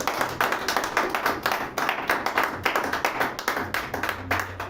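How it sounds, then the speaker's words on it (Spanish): A church congregation clapping in steady, rhythmic unison, a close, lively pulse of many hands keeping time. "Un aplauso al Señor."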